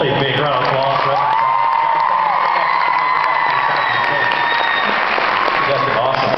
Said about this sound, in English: Will you please give them both a big round of applause?